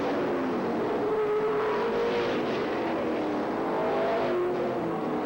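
Late model race cars complete a lap, their engines forming a steady, loud roar that swells slightly as the pack passes, with layered whining tones from several cars at once.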